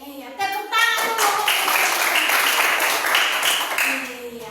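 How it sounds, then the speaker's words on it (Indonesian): Clapping from a classroom group of students, a dense burst of many hands that starts shortly after the beginning and holds steady before tapering, with some children's voices mixed in. "tepuk tangan dulu"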